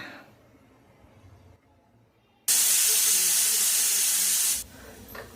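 Pressure cooker on a stovetop at medium flame blows its whistle, a loud continuous hiss of steam bursting in abruptly and holding for about two seconds before cutting off, with quiet kitchen sounds before and after.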